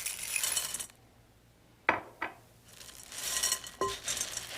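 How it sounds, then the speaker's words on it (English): Toasted corn cereal, mini pretzels, dried cranberries and chocolate-coated candies tumble and clatter into a bowl. A short, bright rattle starts and stops, followed by a couple of sharp clinks and another rattling burst. "We start by combining some toasted corn cereal with mini pretzels, dried cranberries, and chocolate-coated candies."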